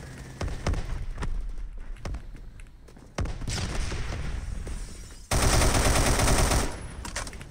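An M1918A2 automatic rifle fires in the Roblox game Phantom Forces: scattered single shots, then sustained loud automatic bursts, close and dominant, with another gun's shots and blasts mixed in.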